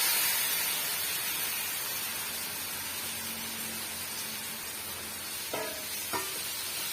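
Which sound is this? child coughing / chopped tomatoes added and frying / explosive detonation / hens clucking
chopped tomatoes added and frying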